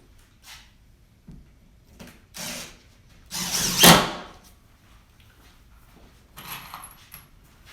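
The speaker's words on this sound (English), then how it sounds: "secure it with the 8 1/4 inch screws." A power drill drives screws into wooden shelving, a few short whirring bursts that build to one loud, near run of about a second, followed by light clatter and quiet.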